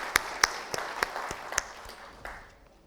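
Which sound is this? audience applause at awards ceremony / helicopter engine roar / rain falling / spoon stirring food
audience applause at awards ceremony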